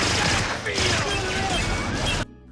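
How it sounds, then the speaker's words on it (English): Rapid gunfire bursts in a movie scene, loud and crackling for about two seconds against a busy action mix, then cutting off abruptly. "The Mad Bomber has a gun and is shooting at Jack."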